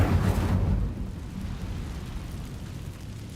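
A fire spell bursts in Hogwarts Legacy with a loud eruptive whoosh, then settles into a lower crackling rumble that lingers for a few seconds, with no one talking.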